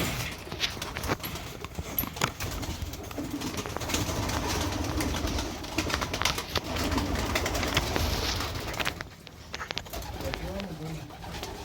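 Pigeons in a loft, among them a golden pigeon, coo softly in low rolling bursts amid shuffling and flapping, with someone talking over the birds throughout.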